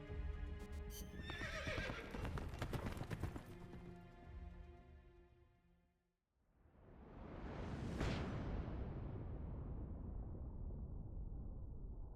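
In the video game Metal Gear Solid: Peace Walker, a horse neighs loudly, then heavy hoof sounds and a rushing swell build and fade, sounding close and full.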